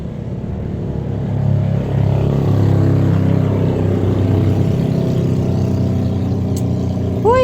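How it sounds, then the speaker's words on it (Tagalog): Several motorcycles pass close by on a road, a steady loud engine drone that swells and lingers for several seconds, with a brief high squeal near the end. "daghan kay mga motor nangagi"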